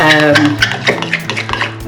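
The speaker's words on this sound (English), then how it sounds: "I'm just giving it a good mix with my spoon to get rid of any sort of bits of jelly or anything in there that's left" A spoon stirs warmed jelly mixture in a bowl, making quick, close, repeated clinks and scrapes against the sides in an irregular rhythm.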